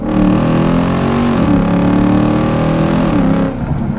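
Lexus IS F V8 sport sedan engine revving hard and loud on downshifts, a steady deep roar with pitch dips and rises as the revs climb, heard up close with no talking.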